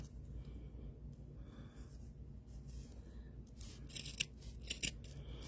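Scissors snip through doll hair in a quiet room, a few crisp cuts coming close together near the end, faint and close up with no talking.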